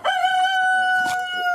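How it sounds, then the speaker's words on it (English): A rooster crows close by, one loud sustained crow with strong harmonic tone and a rougher break toward its end, heard alone. "get away from this damn rooster."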